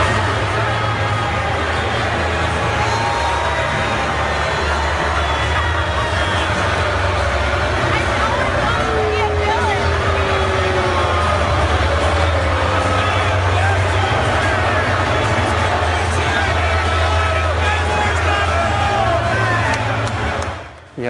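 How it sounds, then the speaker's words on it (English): A political rally crowd boos the press corps as the travel pool walks out, producing a loud, sustained roar of massed voices over a steady low hum that persists for about twenty seconds before cutting off abruptly. "So they walk out, and the audience boos them"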